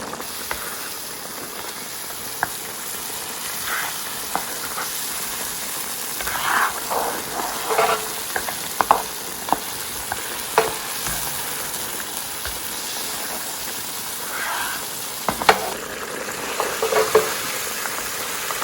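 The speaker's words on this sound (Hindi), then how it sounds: "मसालों को अच्छी तरह भूनना है ताकि इसमें स्मेल ना रहे।" Red chili, Kashmiri chili, turmeric and garam masala fry in oil with meat for a potato and meat curry, a soft steady sizzle with occasional scraping stirs, close and alone.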